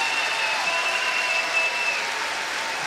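Crowd applause at a women's world championship curling match between the USA and Canada, a steady, dense wash of clapping from a large audience that continues evenly throughout.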